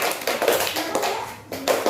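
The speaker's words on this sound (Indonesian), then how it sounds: "kasih tepuk tangan dulu untuk kelompok" Elementary classroom applause for a student group after a presentation, quick brisk clapping from several children nearby, with a short pause before clapping resumes.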